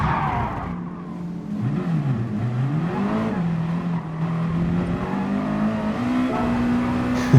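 A Gr2 race car in GT Sport at Fuji braking into a turn, its engine note loud and steady, pitch dipping and rising as it downshifts and powers on, with a constant droning tone throughout.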